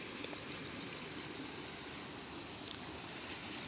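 A river flows near the broken Bhartadev dam, its broadband rushing water steady and continuous throughout, with no voices over it.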